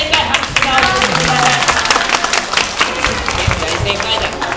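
Audience applause breaks out at a community health center event featuring Kumamon, dense clapping from a crowd with voices mixed in, steady and fairly loud throughout.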